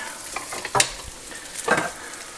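Homemade gnocchi sizzle in a frying pan while being nudged around with a spoon, giving a steady crackle broken by a few sharper scraping and stirring clatters, close and fairly loud with no talking.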